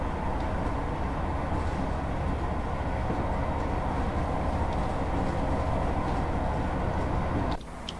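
A train rumbles steadily along in a train simulator game, a dense continuous roar of running gear that cuts off abruptly near the end.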